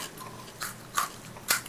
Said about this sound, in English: Sitting there chewing on chocolate and honeycomb.